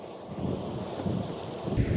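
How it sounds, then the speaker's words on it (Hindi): Wind blows past the microphone beside a flowing canal in Udaipur, a steady rushing buffet with a faint watery wash and a louder gust near the end. "बढ़िया हवा चल रही है, ठंडा मौसम है।"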